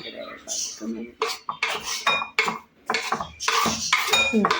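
Eggs for a bread omelette are beaten in a bowl, with a utensil clinking and scraping against the sides in quick, uneven strokes close by.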